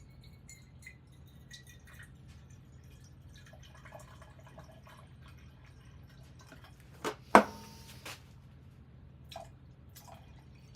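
Water trickling and dripping into a measuring container while mixing a batch with isopropyl, faint sparse drips under a quiet background, with one brief louder splash near the middle and a few soft drips after.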